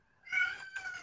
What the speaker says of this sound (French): On a entendu miaou, miaou. C'est un chaton donc.